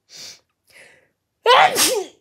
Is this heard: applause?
no